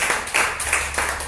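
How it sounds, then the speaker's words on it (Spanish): Rhythmic clapping from a congregation during a church service, about four sharp pulses in quick succession, close and moderately loud. "Denle un aplauso al Señor"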